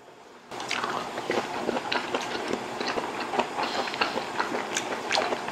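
Raw starry flounder sashimi is chewed up close, giving a continuous run of wet, crisp little crunches and smacking clicks at a fairly loud level, with no talk.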